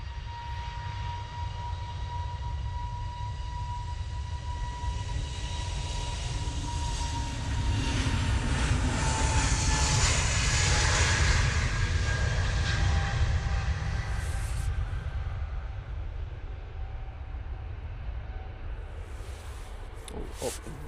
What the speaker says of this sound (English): Up very early, that EasyJet going off to Oslo